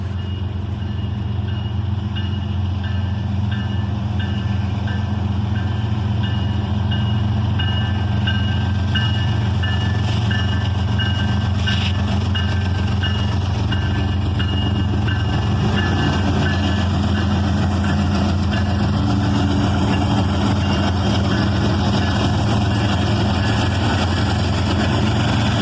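A freight train hauled by two GE locomotives works hard to get moving, giving a loud continuous low engine drone with steady rail rumble and faint intermittent tonal beeps throughout, no talk.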